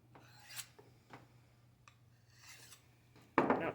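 A pocket knife being sharpened makes a few quiet, separate scraping strokes, followed by a louder and harsher rasp at the end, with no speech.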